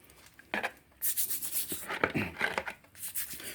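A saw or cutter grinding through a piece of soaked sandstone, a rough abrasive rasp rising in uneven bursts, fairly quiet and close with no talking.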